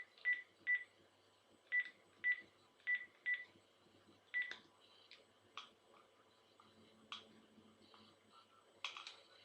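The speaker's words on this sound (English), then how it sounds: "I'm gonna quickly make the call now." A telephone dials out for a sales cold call, with a quick series of evenly spaced keypad tones followed by fainter clicks and handset noises, near and clear over a quiet line.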